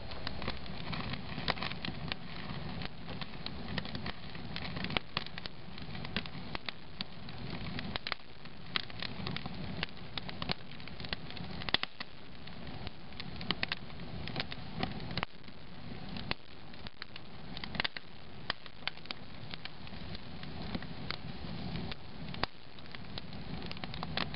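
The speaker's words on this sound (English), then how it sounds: "We're going to enjoy the rest of our little campfire here." A small outdoor campfire crackles and pops steadily for a long stretch, with scattered sharp snaps over a soft, low, muffled rushing background and no voices.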